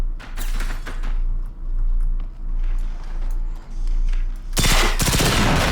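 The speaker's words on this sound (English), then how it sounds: "Sometimes shooting from the hip is good." Rapid bursts of gunfire from hip-firing a weapon in the video game Generation Zero, with steady rapid-fire stretches and a louder, denser volley near the end.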